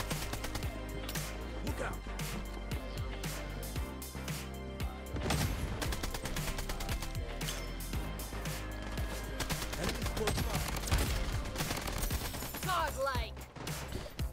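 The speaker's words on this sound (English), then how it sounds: "I don't have ammo anymore for this P90." Bursts of P90 fire in the shooter Bloodstrike rattle on and off, with dense, loud automatic shots and clattering impacts under an excited player's voice throughout.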